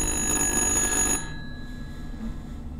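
In the horror game Little Hope, a telephone gives one loud, shrill electric-bell ring lasting about a second. It cuts off sharply into a dark, low ambient drone.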